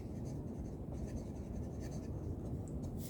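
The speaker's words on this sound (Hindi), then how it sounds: "तो मैं यहाँ पे लिख लेती हूँ सोल्यूशन सेकंड पार्ट" A pen scratches across paper while a maths solution is written out by hand, a close, continuous scribbling rasp with small strokes and pauses, no voices.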